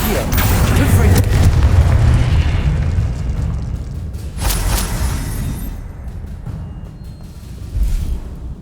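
Explosive Confringo spell blasts in the video game Hogwarts Legacy, heavy booming detonations with rumbling tails and crackling debris, a big blast opening and a second one midway, fading between bursts, with no one speaking.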